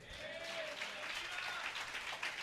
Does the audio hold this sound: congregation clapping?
yes